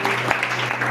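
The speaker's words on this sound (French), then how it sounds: "Acclame pour le Seigneur." A church congregation claps for the Lord during a service: a brief, dense burst of applause, loud and close, with voices mixed into it.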